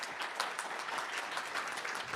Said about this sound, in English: Let's give it one final round of applause.